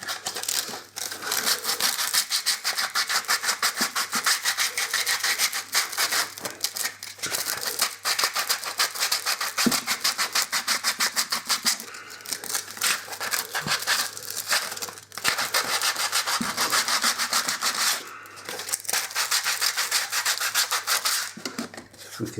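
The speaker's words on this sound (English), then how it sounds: "take your sandpaper and to just rub out all the blade marks around the edge" Sandpaper scrubs steadily against the edges of a hand-cut model to remove blade marks, a dry, continuous rasping with quick back-and-forth strokes and brief pauses, close and alone without talk.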